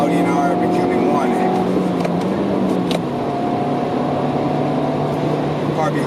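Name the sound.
Audi R8 engine while drifting through corners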